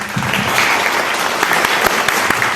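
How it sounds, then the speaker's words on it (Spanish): Audience at a literary lecture clapping steadily and densely for the whole stretch, loud and close, with no voices over it. "Fuertes aplausos, por favor."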